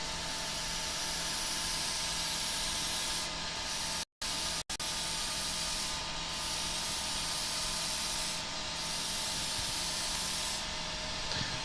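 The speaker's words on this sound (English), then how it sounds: "As I'm spraying on the colour here, in order to get that gradient edge up here, I'm pulling the airbrush away." An airbrush sprays colour onto a spinning wood-turned pedestal bowl, a continuous close hiss over a faint lathe hum, with the spray cutting out briefly twice before resuming.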